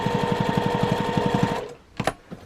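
A sewing machine stitches a seam on a lace zipper pouch with a steady, fast mechanical chatter for about a second and a half. It then stops, followed by a few sharp handling clicks nearby.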